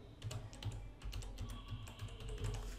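Quick bursts of keystrokes on a computer keyboard as a username is typed, soft, close clicking in short irregular runs with no talking.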